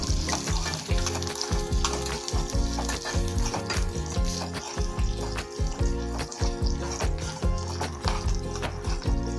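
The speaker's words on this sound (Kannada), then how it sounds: "ಬ್ಯಾಡಗಿ ಮೆಣಸಿನ್ಕಾಯಿ ಹಾಕೋತಾ ಇದ್ದೀನಿ, ಹಚ್ಚಿಟ್ಕೊಂಡಿದ್ದಂತಹ ಈರುಳ್ಳಿನ ಹಾಕೋತಾ ಇದ್ದೀನಿ. ಸ್ವಲ್ಪ ಈಗ ನಾವು ಫ್ರೈ ಮಾಡ್ಕೊಳ್ಳೋಣ." Onion and Byadagi chillies fry loudly in a pan with a dense, continuous crackling sizzle and a busy, rhythmic layer of stirring or background sound throughout.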